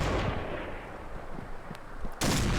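Gunfire in the video game PUBG, with a dense rattle of shots heard in the distance that builds up, and then a sudden loud close burst near the end.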